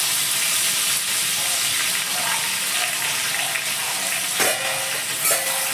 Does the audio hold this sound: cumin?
yes